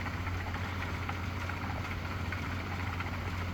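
A steady low mechanical hum of a flexible screw auger motor running continuously at 45 Hz, even and unchanging, with a faint rattling texture; no voices.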